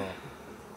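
Honey bees buzz in a dense, steady drone close by in the open air at a mountain campsite, brief and unbroken with no voices.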